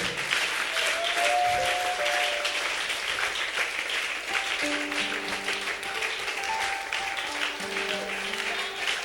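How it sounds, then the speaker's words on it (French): A church congregation applauds to acclaim the Lord, a sustained wash of many hands clapping close by, with sung or voiced tones rising over it. "Est-ce qu'on peut encore acclamer le Seigneur?"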